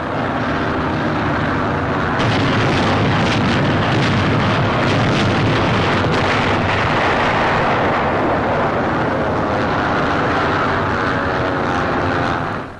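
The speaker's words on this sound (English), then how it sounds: "Here is real pinpoint bombing." Aerial bombing of a bridge during the 1944 invasion of France, heard as a sustained dense roar of blasts and aircraft engines. The noise is loud and continuous throughout, with bursts of crackling rumble and no talk.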